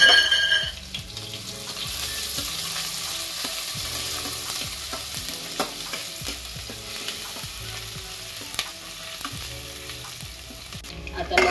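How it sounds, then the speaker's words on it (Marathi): Garlic fries in hot oil or butter in a kadhai, a steady sizzle carrying a rhythmic series of spoon scrapes and taps against the pan, with no voices. "तेल गरम झाल्यानंतर आता त्यात आपण लसूण घालूया।"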